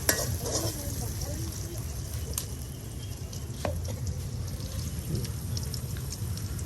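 Onion added to a hot pan while cooking a village-style curry of country chicken, a continuous steady frying hiss with faint stirring scrapes throughout and no clear talk.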